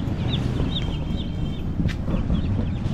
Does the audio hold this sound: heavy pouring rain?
no